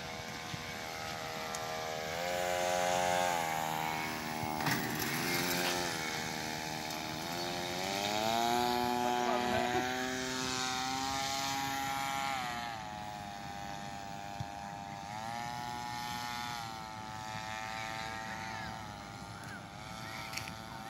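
Propeller motor of a 5.5 m radio-controlled paraglider with a left-turning propeller, a steady buzzing drone whose pitch rises and falls over about twenty seconds, fairly close and continuous.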